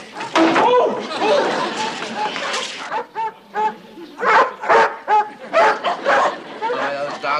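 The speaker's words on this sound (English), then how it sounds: "Those dogs keep zeroing in on us." Dogs in an outdoor scene of a TV comedy bark and yip in a rapid, loud, choppy series of short bursts, with voices mixed in among the barks.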